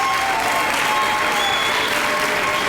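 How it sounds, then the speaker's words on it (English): An audience at a sixth grade graduation applauds loudly and steadily, a dense wash of many hands clapping together throughout. "So let's give her a big round of applause too."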